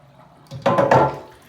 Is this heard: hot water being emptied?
yes